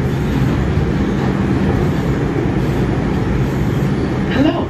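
R142 subway train on the New York 4 line running between Bedford Park Blvd and New Lots Avenue, a loud, constant onboard rumble and roar with a rising whine near the end.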